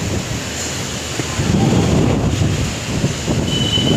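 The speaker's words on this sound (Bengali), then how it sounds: "তীব্র ঝড় এসছে" Strong wind buffets the microphone in a continuous heavy rush, growing louder after the first second and staying turbulent to the end.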